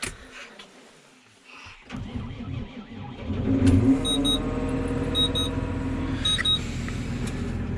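Case tractor engine starting and running: a low cranking start, then a steady, loud idle rumble close by, with brief high beeping tones repeating several times over it.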